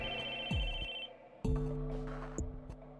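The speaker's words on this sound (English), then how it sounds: "The sudden ringing of my phone startled me." A phone rings in the visual novel game Chaos;Head Noah, a bright electronic ringtone with repeated tonal bursts in an uneven rhythm, loud and alone without any voices.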